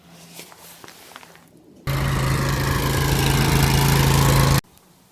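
A lawn tractor engine in a garage cranks and catches abruptly, then idles loudly and steadily with a constant hum for about three seconds before cutting off; faint footsteps and shuffling come before it starts.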